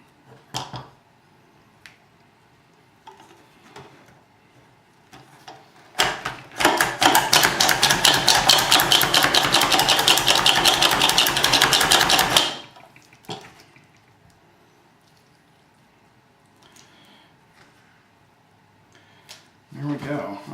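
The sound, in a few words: chopping salsa ingredients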